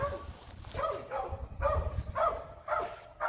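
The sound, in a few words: dog barking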